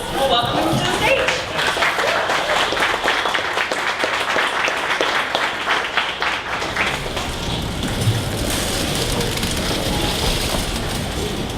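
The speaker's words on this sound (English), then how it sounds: "Big warm round of applause" A conference audience at a morning startup pitch event in Dallas gives a long, steady round of applause that fills the room, with some talk mixed in.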